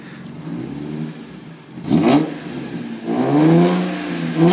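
A BMW E46 M3 engine fitted with AP headers and Borla mufflers revs in a few sharp throttle blips, the raspy exhaust climbing and falling loud and close.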